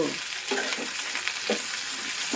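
Bitter gourd fries in oil in a pan with a dense, continuous close sizzle and soft periodic stirring strokes, loud and steady, with no voices.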